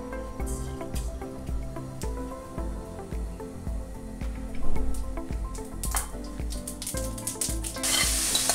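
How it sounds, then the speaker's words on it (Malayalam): Mustard seeds spluttering in hot coconut oil in a pan, with continuous sizzling and dense irregular popping crackles over about eight seconds, close and fairly loud, no speech. "കടുകെല്ലാം പൊട്ടിയിട്ടുണ്ട്."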